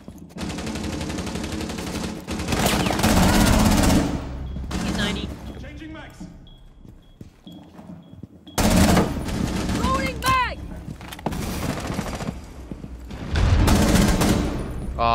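Bursts of automatic gunfire in Rainbow Six Siege as a player shoots out a wall, loud rapid volleys in three clusters separated by quieter gaps with faint game sounds.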